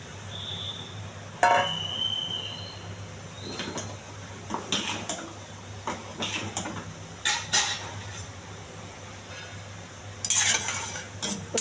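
Boiled peas and chickpeas are stirred with spices in a pan, giving quiet scraping and intermittent metallic clinks of a spoon against the pan over a soft steady hum.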